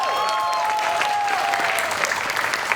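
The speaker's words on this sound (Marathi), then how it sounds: "जोरदार टाळ्या." Loud, dense applause from a studio audience at a Marathi comedy show, steady and sustained throughout with a faint tone ringing above it.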